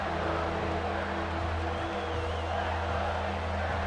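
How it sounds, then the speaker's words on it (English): Crowd roar in EA Sports College Football 26, the Alabama home crowd bringing noise on third down at the stadium; a steady, dense wall of cheering with a low rumble underneath and no let-up. "The Tide crowd rolling noise down on the Saban field on third down."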